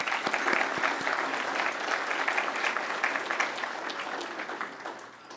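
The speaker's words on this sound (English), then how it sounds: "Let's give them a round of applause." Audience members at the 2025 ServiceSource Service Excellence Awards ceremony applaud in a steady, dense wash of clapping that slowly tapers off.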